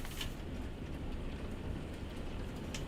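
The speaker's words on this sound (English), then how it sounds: "is it ever raining?" Heavy rain falling outside a window, a dense steady hiss of drops drumming with a low rumble underneath, even and continuous throughout, with no one talking.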